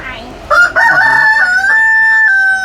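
A loud, close rooster crows once, a long rising then sustained cock-a-doodle-doo that dominates the clip, with faint voices and clucks around it.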